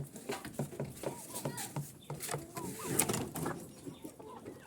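Poultry in a farm cage cluck and chatter softly with short irregular calls, along with light pattering and shuffling, under quiet talk.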